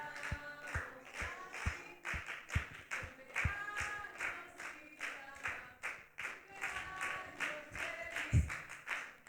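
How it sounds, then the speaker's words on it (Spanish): Congregation applauding a woman's birthday during a Sunday church service, steady rhythmic clapping with a sharp louder slap near the end, under faint murmuring and talk. "Damos un fuerte aplauso a Cintia"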